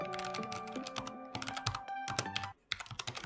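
Rapid typing on a low-profile mechanical keyboard, a dense run of crisp clicky keystrokes with a brief pause near the end before the tapping resumes.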